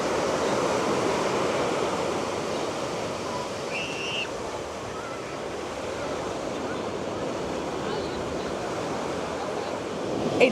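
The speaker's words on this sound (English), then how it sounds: "just listening to the sound of the waves crashing" Ocean waves crash steadily at Lookout Cay, a continuous loud wash of surf with wind noise on the microphone and no break throughout.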